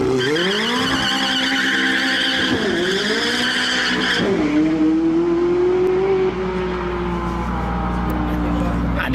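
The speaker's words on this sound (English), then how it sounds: "The burnout mode then, what you've just witnessed" A McLaren 675LT does a burnout, its tires squealing in loud, sustained, wavering shrieks over a continuous engine roar, close by and lasting throughout.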